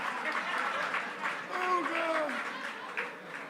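Audience applause rises at a hip hop panel marking the culture's 50th year, a steady crowd clapping throughout with voices calling out and cheering over it.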